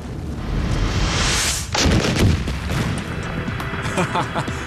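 A nuclear weapon explodes on an asteroid in a simulation, a rising rush breaking into a loud boom followed by rumbling, crackling bursts, with voices talking over it.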